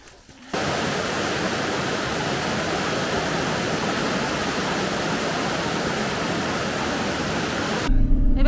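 A river crossing, with steady broadband rushing of flowing water filling the scene loud and close, starting abruptly after a brief quiet moment and continuing evenly, with a slight shift near the end.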